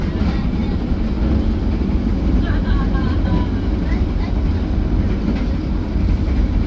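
Inside a Gajahwong premium economy class passenger train car in motion, a loud steady low rumble of wheels and carriage fills the space, with faint higher squeals and rattles drifting over it.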